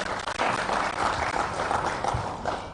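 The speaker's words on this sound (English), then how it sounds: "so we give him another hand clap." An audience applauding a minister at the launch of a fruit expo, dense steady clapping from a crowd close by, sustained without a break.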